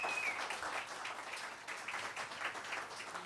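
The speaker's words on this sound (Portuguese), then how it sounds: "o aplauso para o Abel Rosa." Audience applause for a speaker at a talk on the Beatles and censorship in Portugal, dense continuous clapping from a crowd, moderately loud and even throughout.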